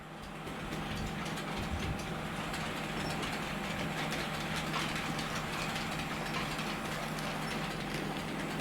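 A small Bachmann L&YR class 05 model railway locomotive rumbles steadily along its track with a continuous clattering hum, fairly quiet and unbroken throughout.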